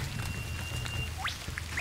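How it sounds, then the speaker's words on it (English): Heavy rain falls steadily during an overnight hike in a storm at Mount Cole, a dense, even hiss throughout, with a few faint chirps rising above it near the end. "It's just raining at the moment heavily"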